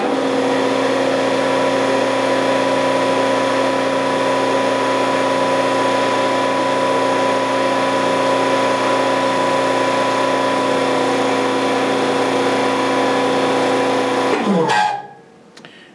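A hydraulic power unit runs with a steady, close electric-motor hum and pump drone, holding level for a long stretch before winding down and cutting off near the end.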